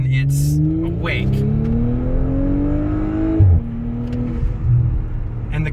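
A tuned Audi S5 B9 with an Integrated Engineering Stage 1 tune accelerates hard, its engine note climbing steadily toward redline, then dropping with a gear change before building again, loud and close under a voice.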